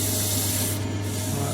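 Abrasive sanding smooths lumps from a turned camphor laurel wood cup, a loud continuous rubbing hiss over a steady low hum, close up and without speech.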